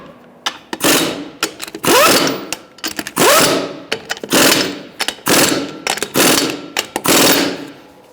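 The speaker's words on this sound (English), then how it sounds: "Using a 21mm socket, we're going to tighten up in a crisscross manner." A ratchet with a 21mm socket clicking rapidly as it tightens wheel lug nuts on a 2012-2017 Hyundai Accent, in repeated loud, close bursts separated by brief pauses.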